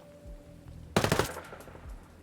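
A single short burst from an SMG fitted with a flash hider in Ghost Recon Breakpoint, a rapid loud rattle of a handful of shots lasting about a third of a second, surrounded by quiet game ambience.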